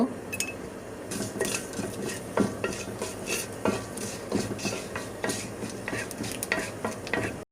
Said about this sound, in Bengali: কালো জিরা দেওয়ার পরে আমি এখন এটাকে সুন্দর করে একটু ভেজে নেব